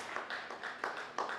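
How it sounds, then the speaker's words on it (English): Continuous applause at a scientific conference: a dense, steady patter of many hands clapping, with a few sharper surges. It is moderately loud and fills the whole moment. "A round of applause for her."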